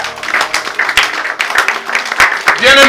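A church congregation applauds and cheers in praise during a French-language sermon, a dense wash of clapping with voices calling out over it, steady and fairly loud for about three seconds.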